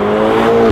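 An Audi TT RS with a manual gearbox heard from the cabin while driving, its engine humming at a steady loud drone with a slight rise in revs toward the end.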